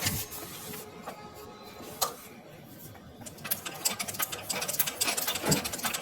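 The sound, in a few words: sewing machine stitching on practice paper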